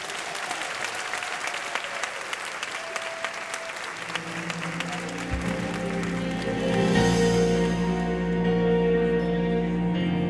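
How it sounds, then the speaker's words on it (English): An audience at a senior women's pageant applauds the outgoing Miss Senior District of Columbia on her last walk, steady clapping that swells and thickens toward the end with sustained music tones underneath. "Let's give her a round of applause."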